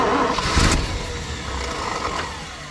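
An old junkyard wood chipper engine cranks and fires up, loud and close, with a short starter burst and then a rough running rumble that settles, with no talking.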